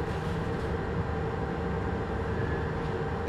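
CFR Class 47 locomotive running in Train Simulator Classic, a steady, dense engine rumble with continuous rail noise that holds close and loud without a break.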